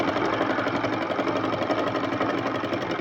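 Sewing machine stitching a neckline on a garment, a steady dense mechanical whirr running loud and continuous throughout with no pauses.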